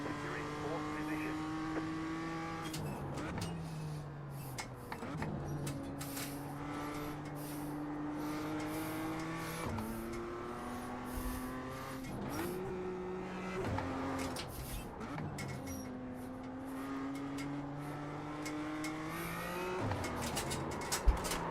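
A Formula 4 race car laps Laguna Seca, its engine climbing in pitch and snapping through quick upshifts again and again in a rhythmic cycle, loud and close from onboard, with faint radio chatter beneath.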